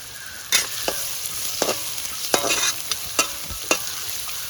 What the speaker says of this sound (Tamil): முதலாவதாக கேரட்டை போடுவோம்.